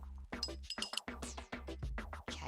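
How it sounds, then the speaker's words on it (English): Fork beating cream soda in a glass, a rapid run of bright clinks and taps against the glass, close and fairly loud with short gaps. "We need to take a fork and beat it up a little bit so it doesn't fizz right out of the glass."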